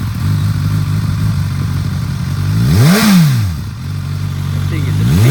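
A 2016 Suzuki GSX-S1000 superbike engine idles loudly nearby, then sweeps up in one sharp rev around the middle before dropping back to a steady idle, with another rise starting at the end.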